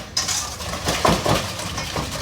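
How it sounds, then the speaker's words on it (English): Metal whisk clinking and scraping against a mixing bowl as dry baking ingredients are mixed, a continuous run of rattling taps and swishes close by, with no voices. "we're gonna whisk that together"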